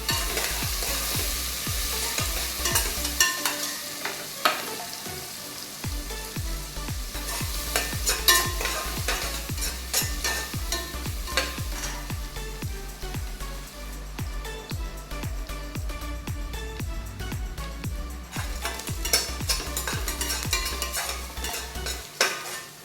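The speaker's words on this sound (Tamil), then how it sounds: "ஆனியன் நல்லா ப்ரௌன் ஆகணும், அந்த அளவுக்கு வதக்கிக்கலாம்." Onions and green chillies sauté in a pot for chicken biryani, a steady sizzle under repeated scraping of a spoon against the metal, close and continuous.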